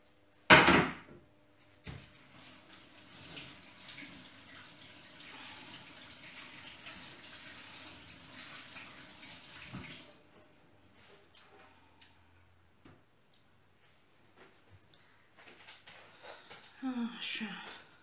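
Hands rinsed briefly under a running kitchen tap while making sour cream dough for crescent cookies, a steady soft hiss of flowing water for several seconds, bracketed by clatter and small handling noises.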